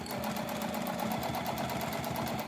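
A Juki TL2010Q sewing machine stitches with a Teflon foot, giving a steady, fast mechanical chatter close by, unbroken for the whole stretch.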